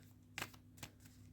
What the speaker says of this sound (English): as we shuffle these up